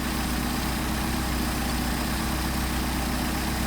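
Car engine idling steadily at around 800 RPM while twin Solex 44PHH carburetors are tuned, a close, constant low rumble with no change in pitch and no talking.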